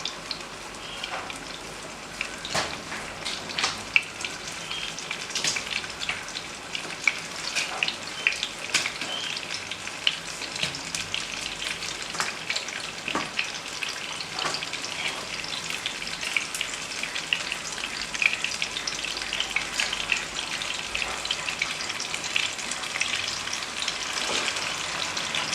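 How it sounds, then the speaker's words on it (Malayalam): Giant gourami fish frying in hot oil, a steady close crackling sizzle with scattered sharper pops and spits throughout, no voices. "മീൻ അങ്ങോട്ട് ഇട്ടിട്ടുണ്ട് ചൂടെണ്ണയിലോട്ട്"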